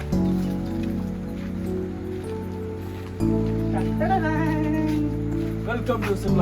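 Rain falls steadily at an outdoor tea spot in Kandy, Sri Lanka, a continuous close hiss of drops on surfaces that grows a little louder midway, with people talking now and then.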